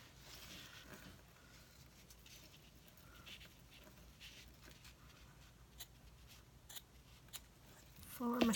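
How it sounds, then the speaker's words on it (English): Dull scissors cut cardstock for handmade thank you cards, giving faint, sparse snipping and rustling with a few sharper clicks, then a voice speaks briefly at the end. "My scissors need sharpening."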